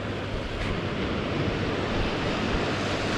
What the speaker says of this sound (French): Mais il y a quand même pas mal de vent.